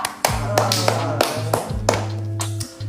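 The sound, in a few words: clapping hands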